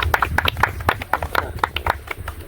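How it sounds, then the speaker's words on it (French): Audience clapping at an agricultural presentation event, a loose scattering of claps and taps rather than full applause, moderately faint throughout. "applaudissez pour Denise et puis Fernando"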